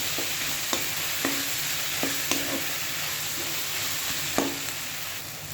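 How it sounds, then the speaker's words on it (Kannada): Vusthikai sizzles steadily in a pan over a medium flame, with a constant frying hiss broken by occasional sharp taps and scrapes as it is stirred. "ಇದನ್ನು ಒಂದು 10 ನಿಮಿಷ ನೀಟಾಗಿ ಮೀಡಿಯಮ್ ಫ್ಲೇಮಲ್ಲಿ ಇಟ್ಕೊಂಡು ಫ್ರೈ ಮಾಡ್ಕೊಳ್ಳಿ"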